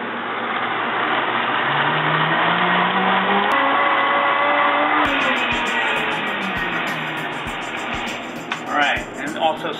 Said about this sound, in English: every time I start a blender, I always go, just start it slowly, get it going, and then